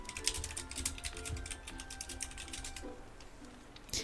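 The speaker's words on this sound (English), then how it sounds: "You guys will hear me typing" Quiet clatter of fingers typing on a computer keyboard, irregular bursts of close, soft key taps with a brief pause before a final few strokes.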